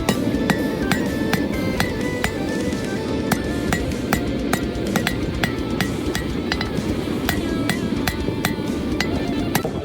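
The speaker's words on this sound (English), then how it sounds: "What I am doing now is drawing out this bar of 1080 steel" Steady, rhythmic hammer blows ring out close and loud as a bar of 1080 steel is drawn out on a wobbly anvil during backyard knife forging, each strike a sharp metallic clang over a continuous background rumble.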